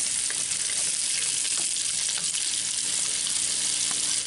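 Rabbit pieces frying in olive oil in a Dutch oven, a steady, dense sizzle that holds at an even level throughout, with faint stirring ticks and no talking.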